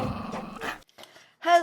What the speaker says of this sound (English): With special guest star, Lily the Barking Bean